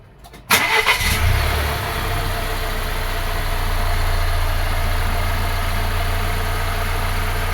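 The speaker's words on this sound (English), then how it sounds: "we're going to start the car and pick our readings." A 2018 Volvo XC60 engine cranks briefly and catches, then settles into a steady, close idle with a low rumble that continues to the end.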